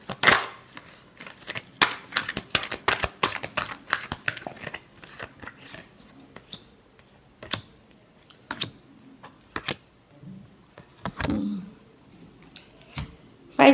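Tarot cards are shuffled by hand, giving a dense run of quick papery clicks and riffles that spaces out into scattered single snaps and a brief soft rustle, close and fairly quiet with no talking over it.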